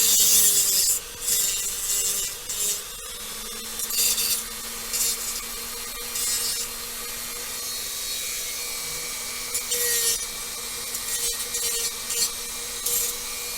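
Hand filing on a plastic part from an MPC X-Wing fighter model kit, a steady scraping rasp that keeps repeating in strokes, close up, with no talk.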